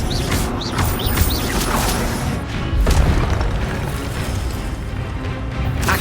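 Expelliarmus spell casting during a Hogwarts Legacy duel: sharp magical bursts and booming impacts in quick succession, punchy and close, with chirping effects early on.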